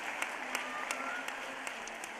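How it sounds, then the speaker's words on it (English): Light, steady applause from a crowd, soft and somewhat distant, with a few sharper claps standing out at irregular moments. "let's give her, but also Miss Laura Lamb, a big round of applause."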